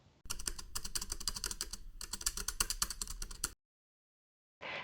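Rapid keyboard typing, steady clicking keystrokes for several seconds, then a short silence before the typing briefly resumes.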